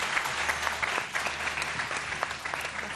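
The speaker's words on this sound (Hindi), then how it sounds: "और जोरदार तालियां।" A studio audience claps steadily and loudly for Saba, a woman welcomed onstage, the dense applause continuing evenly throughout without any speech over it.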